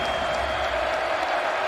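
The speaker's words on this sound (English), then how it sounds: "An engaged crowd inside Arrowhead" A large stadium crowd of Kansas fans at Arrowhead keeps up a steady roar of cheering and applause during a college football game, dense and continuous with no pauses.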